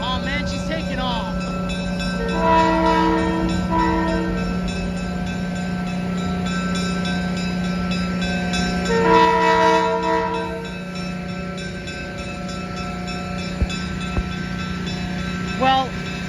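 Diesel locomotive 358 pulls away under a steady low engine rumble and sounds two long multi-tone horn blasts, the second louder, before the horn falls silent and the train recedes.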